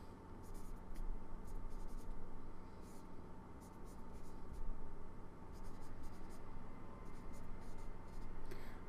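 Pencil or pen strokes drawing a triangle by hand on paper, in short scratchy bursts separated by pauses, faint and close under a steady background hiss with some talk.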